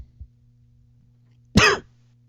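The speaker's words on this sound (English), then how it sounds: "That was a legitimate cough." A single sharp, loud cough bursts out near the mic about midway, brief and forceful, with a faint low hum and a soft thump earlier on a podcast recording.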